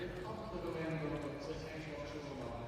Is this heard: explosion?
no